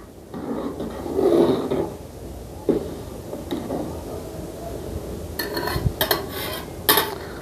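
Cooked rice being stirred in a large pot for a village meal, with a spoon scraping and knocking against the metal in irregular strokes, a few sharper clanks near the end, close and fairly clear.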